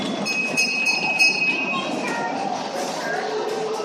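A train rumbles past nearby, a broad steady roar of rail noise with thin metallic squealing tones riding on top, continuous and moderately loud throughout.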